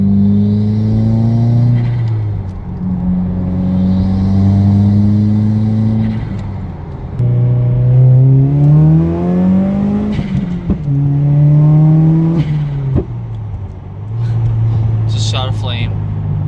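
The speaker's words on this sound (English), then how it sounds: "I'll shut up and let you hear the exhaust." A Subaru WRX with a catless downpipe and deleted mufflers revs hard several times, deep droning rising and falling with crackles between pulls, loud and close.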